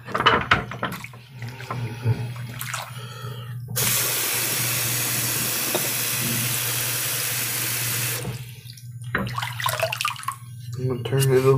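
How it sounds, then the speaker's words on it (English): Running water from a tap rinses a honing stone in steady spurts, a broad continuous splashing rush lasting several seconds, with talk before and after. "Now let's rinse off the stone."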